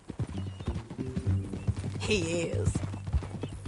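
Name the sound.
horse hooves clip-clopping, from a video game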